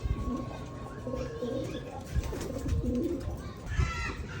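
Free-flying pigeons give soft, repeated low cooing calls close by, set against a faint background hum.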